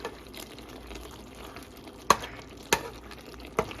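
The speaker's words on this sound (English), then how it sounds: "We just got to stir this up." A spoon stirs spaghetti sauce with ground beef in a cooking pot over a low, continuous sizzle, and three sharp clacks ring out as the utensil knocks against the pot's rim.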